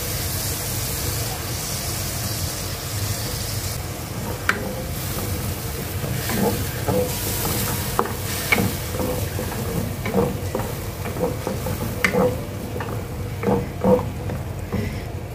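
Thai chili sauce being stirred into a sizzling frying pan, a steady fry hiss under light scraping and clinking of the utensil, close and continuous, with no talk.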